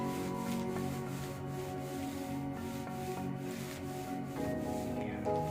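A household iron is pushed back and forth over fabric to bond it for a DIY fabric box, making a steady close rubbing and scraping sound with faint repeated strokes.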